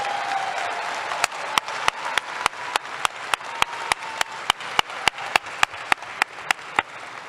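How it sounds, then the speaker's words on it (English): A commencement ceremony crowd in an arena applauds graduates as they exit, with sharp, evenly spaced claps in a steady rhythm over a soft background murmur. "Let's give them a round of applause as they exit the arena."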